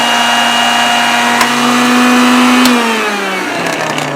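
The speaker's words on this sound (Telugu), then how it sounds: "అవన్నీ ఒకసారి గ్రైండ్ చేస్తున్నారు." Mixer grinder whirring loudly as it grinds bottle gourd, green chilli and other chutney ingredients, a steady high whine that drops in pitch as the motor slows near the end.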